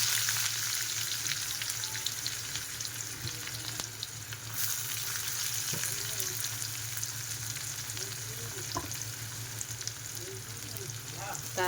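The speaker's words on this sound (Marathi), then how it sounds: "आता आपण कांदा टाकून घेऊया." Onion and garlic fry in a pan for a bombil, bean and potato dish, a steady crackling sizzle with occasional stirring scrapes and clicks, close and continuous throughout.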